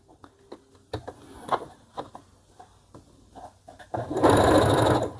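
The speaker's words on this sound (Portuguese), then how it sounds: "E vou passar uma costurinha." A domestic sewing machine stitching a seam on a child's jumpsuit: soft intermittent clicks and handling noises, then a steady, fast whirring run of stitches over the final second.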